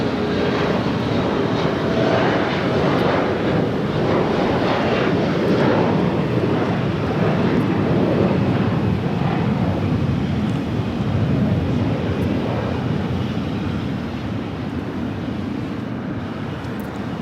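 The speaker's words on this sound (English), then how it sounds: "We have a Delta 330 Neo taking off on 24 left" A Delta Airbus A330neo takes off on runway 24 left at Los Angeles LAX, its engines producing a loud, sustained roar that swells in the middle and then eases slightly as it recedes.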